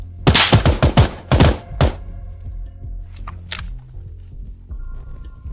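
Burst of close, loud gunfire in the tactical shooter game Ground Branch, a rapid cluster of sharp shots followed by a few scattered distant reports and thuds, with brief voice chatter afterward.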